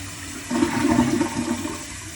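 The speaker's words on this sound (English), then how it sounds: "a nice full flush from the toilet, and the flapper is closing right after the toilet bowl evacuates itself" A Project Source toilet fitted with a 3-inch flush valve gives one full, rushing flush that swells after a brief pause and then eases into a steady draining hiss, heard up close with nobody talking.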